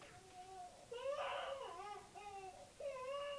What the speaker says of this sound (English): Why is the baby crying?